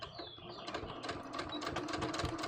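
A domestic sewing machine stitching fabric for a welt pocket, a quiet, steady rapid whirring chatter running continuously at close range.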